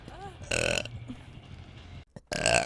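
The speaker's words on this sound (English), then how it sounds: "I'll be burping up a storm, you know?" Two loud, close burps, one near the start and a longer one at the end, with quieter sounds between them.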